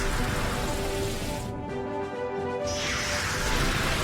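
Rain effect from the Pokémon XD: Gale of Darkness battle, a dense steady hiss of falling rain that briefly drops away mid-way before returning loud and close.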